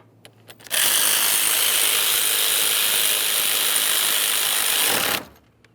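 A ratchet tightens the radiator and condenser mounting bolts on a 2015-2020 Ford F-150 3.5L, sounding as one continuous close mechanical whir of about four seconds, with quiet pauses before and after.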